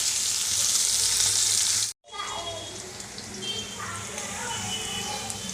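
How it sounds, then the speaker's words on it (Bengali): Bitter gourd pieces sizzle and crackle loudly in hot oil with bay leaves, a brief pause, then a softer steady frying hiss with some stirring sounds. "তেজপাতা দিয়ে যে করলাগুলো ভালো করে ভেজে নেব করলাগুলো লাল লাল করে ভেজে নেব"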